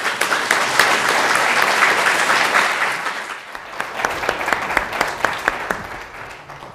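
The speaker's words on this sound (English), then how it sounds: "I hope you join me in welcoming Judge Ray Singh to this evening" An audience at a book launch applauds to welcome a district judge. The clapping is steady and full for a few seconds, then thins to scattered individual claps.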